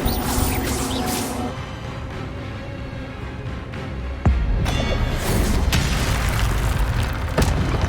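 Incendio fire spell cast in Hogwarts Legacy gameplay, a sudden loud whooshing burst of flame that keeps roaring amid steady game sound effects and background music.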